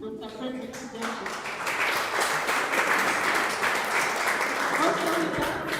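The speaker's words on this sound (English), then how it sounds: "Please let's clap our hands as we recognize the presence of our" A lecture audience claps for their dean at a university guest lecture, with a voice speaking over the first second before the applause swells into dense, sustained clapping that stays loud and then thins slightly at the end.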